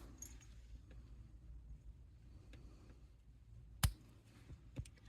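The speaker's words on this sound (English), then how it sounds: "So I'm going to cut that right next to my crimp." SilverSilk beading wire snipped close beside a crimp bead, one sharp, bright click standing out from quiet handling noise, followed by a fainter tick a moment later.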